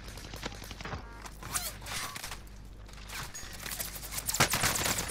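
MP7 submachine gun firing in a video game match, heard as dense rapid automatic bursts, fairly faint and steady throughout, with other gunfire mixed in.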